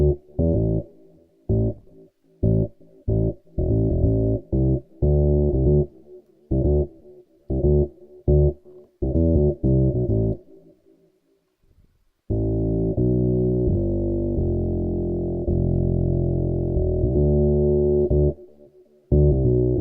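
Sonic Reality Ultra bundle instrument sounds play with echo, first as a run of short, punchy repeated notes and then as a long sustained chord that holds steady before cutting off.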